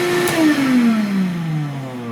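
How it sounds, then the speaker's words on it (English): Shop vac motor runs loud and close on an MPP LV6548 inverter, starting with a surge and then settling into a steady whine that slowly drops in pitch. "one last time for the surge test for the shop vac"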